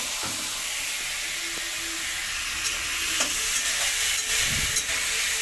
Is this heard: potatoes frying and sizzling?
yes